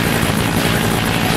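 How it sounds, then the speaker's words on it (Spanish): A helicopter in the 2003 PC Teenage Mutant Ninja Turtles video game roars loudly and steadily with a dense, continuous rotor and engine drone, alone without talk. "Escapar llevándose la obra de arte en el helicóptero"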